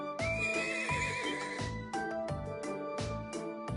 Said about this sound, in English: We got a wild one here. Understandable. This horse recently arrived from the Nord Highlands.